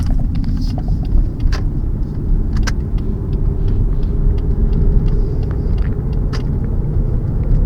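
A car moves at speed, with a loud, steady low road and engine rumble and faint rattling knocks from inside the cabin.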